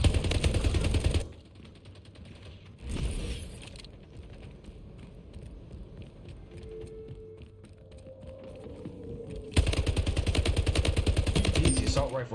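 Gunfire in the video game Splitgate, loud bursts of rapid automatic shots at the start, again briefly near three seconds and at the end, separated by quieter stretches of game ambience.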